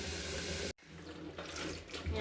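Running tap water gushes as star fruit is washed, cuts off abruptly, then softer splashing and rinsing sounds follow.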